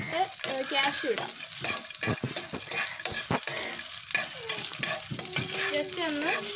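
Cashews frying in ghee for Kerala palada pradhaman, a steady close sizzle with stirring scrapes running throughout, and a voice talking over it.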